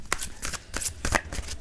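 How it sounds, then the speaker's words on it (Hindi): Tarot cards are shuffled close by in quick riffling bursts, giving a soft, papery flutter with several rapid flicks. "कुछ कार्ड्स है, शफलिंग।"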